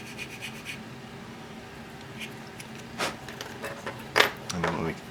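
A narrow, coarse-grit sanding file stick rasps against a small seat detail in short, close scratching strokes, with a few louder scrapes near the end.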